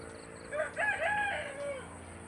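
A rooster crows once around a rural home, a clear drawn-out cock-a-doodle-doo with rising and falling notes, moderately near against a quiet background with no talk.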